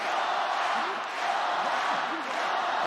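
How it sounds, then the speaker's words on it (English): A wrestling crowd cheers and roars for Yota Tsuji at a New Japan Cup 2024 event, a broad sustained arena roar with a few rising whoops over it. "And the crowd cheering on Tsuji, they can't believe it"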